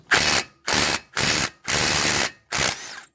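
A socket wrench loosening a 32 mm wheel bearing nut on a 1998 Ford Explorer: five loud, close bursts of ratcheting, each about half a second long, separated by short pauses.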